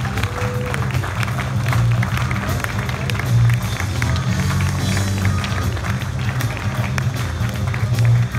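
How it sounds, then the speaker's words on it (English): A crowd applauds at the Salon Privé 2019 Concours d'Elegance awards, with sustained clapping mixed with a low crowd murmur and faint talk throughout. "Big round of applause,"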